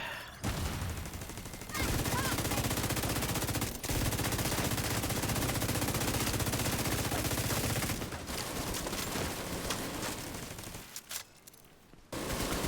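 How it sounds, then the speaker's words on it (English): A minigun fires in a video game boss fight: loud, dense rapid gunfire roars almost continuously for most of the stretch, with a brief pause and fading near the end. "the boss is on a minigun"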